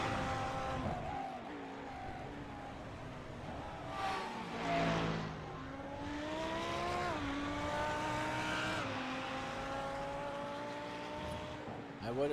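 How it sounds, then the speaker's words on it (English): GT1 and GT3 race cars lapping Texas Motor Speedway in a racing game, engines droning steadily with rising and falling pitch as they pass, a continuous layered roar without pauses. "Currently 6 of the GT1s out there, but as you can see, they're not much faster than the GT3s tonight."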